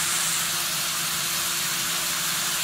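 Squeezed lemon juice hits chopped liver and fat frying in a hot pan, giving a loud steady hiss and sizzle that fills the whole moment without talk.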